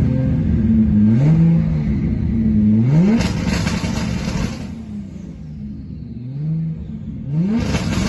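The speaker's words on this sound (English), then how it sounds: "So we pull it up, floor the gas, and boom, and we're off." An 1100-plus horsepower Nissan R32 GTR running 40 psi of boost pulls at full throttle, its loud engine note climbing through the revs, dropping at each gear change, then climbing again.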